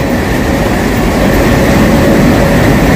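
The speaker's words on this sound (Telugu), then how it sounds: "ఇప్పుడు లోకోమోటివ్ మార్చేస్తున్నారు. గుండాగల్ లోకోమోటివ్ ఇది" A WDG3 diesel locomotive rumbles steadily and loudly during a locomotive change on the Mysore–Kacheguda Express, with a continuous heavy engine drone and no talking.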